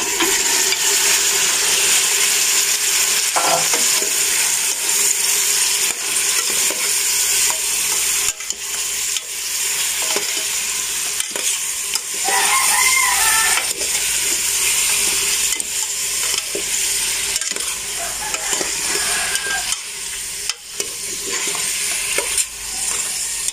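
Chicken for estofadong manok fries in a pan with a loud, continuous sizzle, broken by occasional clacks and scrapes of stirring, with no talking.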